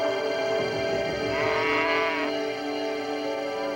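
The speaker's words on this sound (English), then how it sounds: "This is the herd of cows I've been looking for all night." A herd of cows in a field at night, with continuous overlapping bellowing and lowing calls, fairly close and steady throughout, no talking over them.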